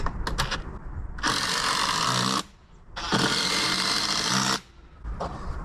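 A power drill drives a screw on a porch build with a tin roof, in two loud, close bursts of whirring, each about a second and a half long, separated by short pauses and framed by brief clicks.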